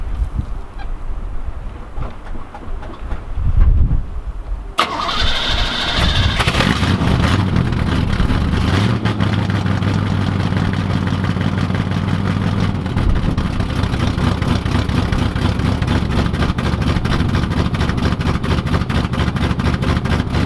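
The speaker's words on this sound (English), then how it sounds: "So you can hear the car running in the background right now" A Chevrolet Camaro Iroc-Z engine turns over and catches after a cold start, then settles into a loud, steady run with a rough, honking tone close by.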